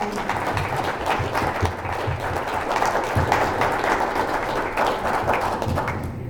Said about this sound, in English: give a great round of applause for our candidates today